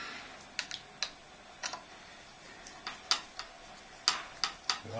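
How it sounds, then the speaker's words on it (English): A hand tap cuts threads, giving sharp, irregular clicks and ticks that come one at a time or in small clusters, close and fairly quiet, with no talk. "Okay, I've been cutting these threads."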